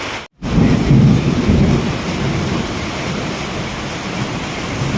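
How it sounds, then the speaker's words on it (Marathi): Deep thunder rumbles on and on, loud and close, over steady, torrential rain that has flooded roads and fields. "जोरजोरात आपल्याला आभाळ गरजण्याचा आवाज येत आहे"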